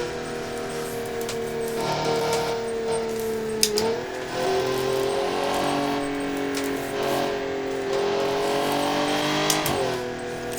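A Crown Model 10 Daily Track Sport sports car races at high speed through corners in a driving simulator, its engine droning loud and steady with pitch shifts between gear changes and no talk.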